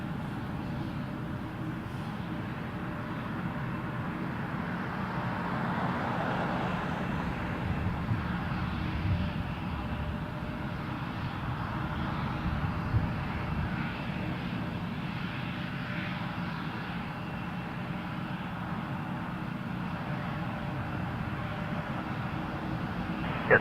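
An Air Canada airliner taking off from runway 23 at Toronto Pearson, a continuous distant jet engine roar that holds steady and grows slightly fuller over about twenty seconds, heard outdoors from a spotting position.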